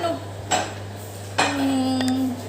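Plates and cutlery clink and scrape in a kitchen while Arab mandy rice is being served, with a few sharp knocks over a low steady hum.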